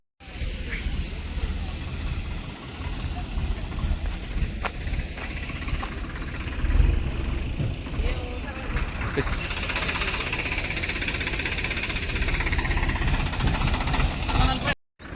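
Two tractor engines rumble and chug continuously nearby while levelling land, a steady low throb lasting throughout, with a person talking over the engine noise.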